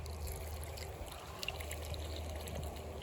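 Water pours steadily onto potted chilli plants such as a Carolina Reaper in a home garden, a continuous close trickle and splash with small drips and no talking.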